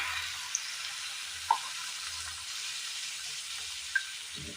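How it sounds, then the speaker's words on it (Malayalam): Warm water poured into a hot pan of tender coconut curry sets off a steady, soft hiss and sizzle, with a few faint clinks and no talking. "അല്പം വെള്ളം ഒഴിച്ചു കൊടുക്കാം"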